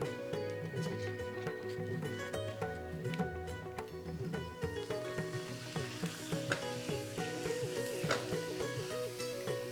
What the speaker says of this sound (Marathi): आता आपण पापड तळून घेऊयात.